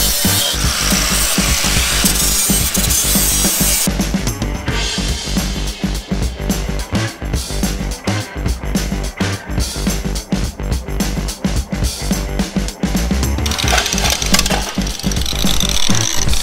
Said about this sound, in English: So I'm gonna switch to a flap disc sander and rough up this chrome.